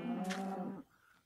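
A single low cow moo from a Minecraft cow, loud and close, lasting under a second before trailing off into quiet game ambience.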